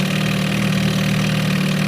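An Evinrude 4hp Excel outboard motor runs steadily in water with its exhaust submerged, giving a continuous, even idling drone at close range with no talk.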